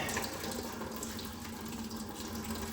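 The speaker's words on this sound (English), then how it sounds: "There's a ton of water." Water draining out of a Honda B18B/B20 engine block as the cylinder head comes off, a steady, soft splashing trickle that runs evenly throughout at low volume with no speech.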